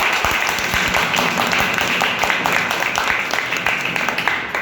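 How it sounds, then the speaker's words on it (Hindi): A room of people clapping while standing at a meeting, a steady, loud wash of applause with sharp individual claps standing out, continuing for several seconds. "तो एक बार मयंक के लिए जोरदार खड़े होके ताली"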